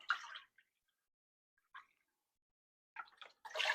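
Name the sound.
vegetable broth poured into a Dutch oven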